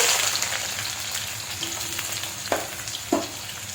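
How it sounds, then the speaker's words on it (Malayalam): Onions frying in hot oil over a high flame for a prawn biryani, giving a steady close sizzle with a couple of sharp scrape-like clicks near the end. "എണ്ണ ചൂടായി വരുന്നുണ്ട് നമുക്ക് ഇതിൽ ഉള്ളി ചേർത്ത് ഫ്രൈ ചെയ്തെടുക്കാം"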